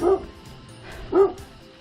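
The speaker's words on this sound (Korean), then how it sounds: "멍멍아 미안하다 조용히 좀 해라" A dog gives two short barks on a hillside road up Uam mountain, each a brief yelping bark about a second apart and fairly close, with quiet background between them.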